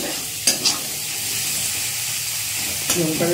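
Green chillies and onions frying in a pan give a steady broadband sizzle, broken by a few sharp scraping stirs near the start and again near the end.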